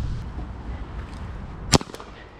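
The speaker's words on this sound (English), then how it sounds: "I'm gonna try and shoot this balloon out of the sky" A Colt Python 6-inch CO2 airsoft revolver fires a single sharp crack at a balloon outdoors in the wind, followed by a faint second snap, over a steady low rumble of wind.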